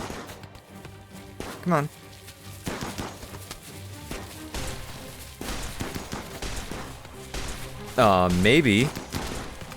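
Shotgun and assault rifle gunfire in the video game RimWorld, heard as sharp, loud bursts and repeated shots spread across the clip, mixed with game sound effects while a person talks over it.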